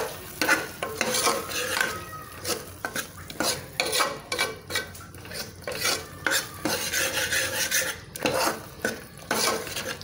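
Egg kurma masala sizzling and bubbling in a pan with repeated stirring scrapes, steady and close, no voices.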